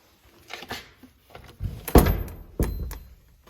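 A door in a spacious workshop being opened, heard as a few close knocks and handling clicks followed by a louder thudding swing and a final bump, alone with no talk.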